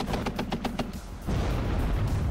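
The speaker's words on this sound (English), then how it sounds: "50 cal is going to keep shooting." A .50 cal machine gun in the strategy game WARNO fires a short rhythmic burst of heavy thumping rounds, then gives way to a dense, rumbling roar of continued fire and impacts.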